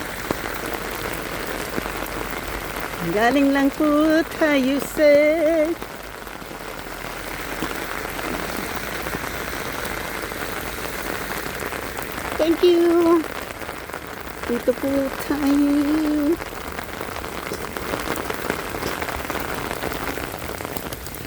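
Heavy rain falls on a city street as a steady hiss that continues throughout, with a person speaking over it in a few short bursts.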